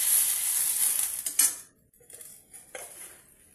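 A bay leaf drops into hot oil for a lentil dish, and a bright hissing sizzle is heard. Metal utensil clinks follow, and the sound fades to faint crackles with another short scrape and clatter.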